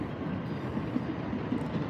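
An old Tokaido line train passing at Tokyo Station, a continuous rumbling rush of wheels and carriages with soft rhythmic clatter, steady and moderately distant, no voices.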